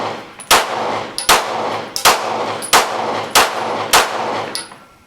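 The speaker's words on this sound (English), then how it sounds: "It's a pretty nifty little gun. I'm going to run some rounds through it before we do a full review of the gun." Glock 19 Gen 4 pistol fired outdoors, six loud sharp gunshots spaced evenly less than a second apart, each with a short ringing tail and no talk between.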